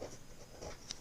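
A pen scratches quickly across paper as someone writes out a class 6 math problem, a faint, close, continuous scribble lasting about a second.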